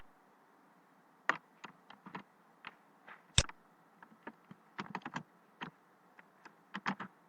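Light, quick keystrokes on a computer keyboard while someone types Python code, clicking in short irregular bursts with one sharper tap, close up and quiet with no talk.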